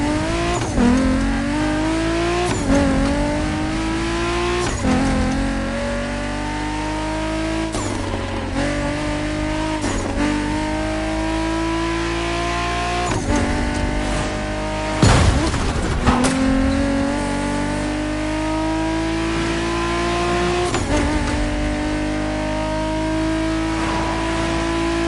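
Muscle car engines in the racing game The Crew Motorfest rev and roar, with repeated rising gear-shift sweeps and a few tire squeals over a continuous loud engine drone lasting about 25 seconds.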